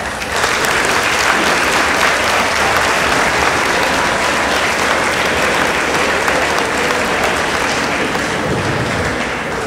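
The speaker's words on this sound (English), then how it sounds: "let's give a round of applause to Karima girls" Loud, steady audience applause for Karima Girls at a school competition, a dense continuous roar of many hands clapping that holds evenly from start to finish.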